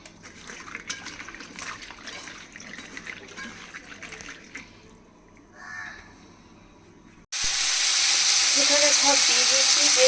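A prawn curry with spring onions, potato and tomato breaks into a loud, steady sizzle in a pan partway through, after a stretch of crows cawing over quiet kitchen ambience.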